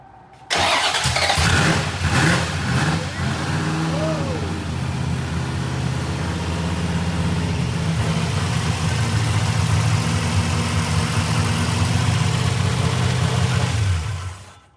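A home-built street car cranks briefly and fires up loud, then settles into a steady, rough, throaty idle that holds close and constant for about fourteen seconds before cutting off.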